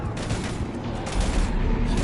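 Dense, continuous gunfire from the video game Mass Effect 3 Legendary Edition on PS5, a loud unbroken fusillade filling the short stretch.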